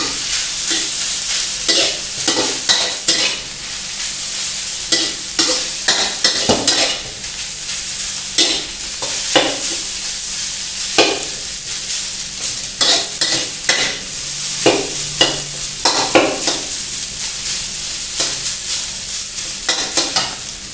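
American fried rice is stir-fried in a hot pan with pepper and seasonings, a steady sizzle punctuated by repeated scraping and tossing strokes of a spatula at a brisk, uneven rhythm.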